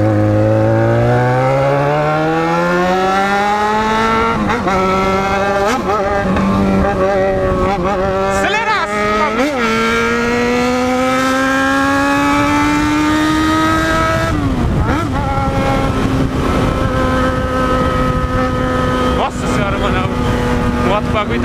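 A Yamaha XJ6 motorcycle engine revs hard while riding past a crowded lakeside, its pitch climbing through the gears in long rising sweeps, loud and close with brief dips between shifts.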